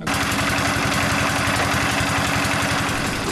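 A fishing trawler's engine idles at a river ghat on the Meghna, giving off a steady, loud, low throbbing chug that runs through the whole stretch without a break.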